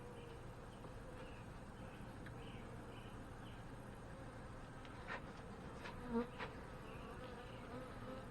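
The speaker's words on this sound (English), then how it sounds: "Lots of bees here." Honey bees swarm around an opened hive during a first inspection of hive 7, their steady, dense buzzing filling the air close by, with a few faint handling knocks.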